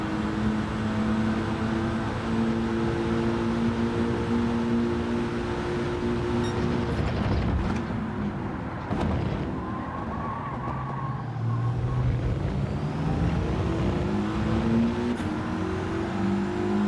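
Racing car engine in Gran Turismo 7 during an online lobby race, a steady loud drone with rising and falling pitch as it revs and shifts, continuous throughout.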